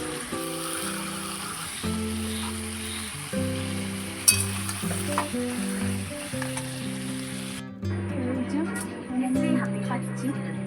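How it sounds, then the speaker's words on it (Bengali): Egg and potato curry sizzles and fries in a pan, a steady hiss running through the whole stretch beneath loud harmonium-like tonal music, with a few sharper crackles. "এই যে আমার ডিম আলুর ঝোল হচ্ছে"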